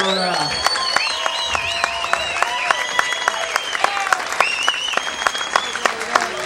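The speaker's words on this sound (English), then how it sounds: "give a big round of applause for High Times Magazine" Audience applause at a High Times Magazine Cannabis Cup event, steady dense clapping under a clear whistled or sung melodic tone sweeping across the whole stretch, with a voice coming through.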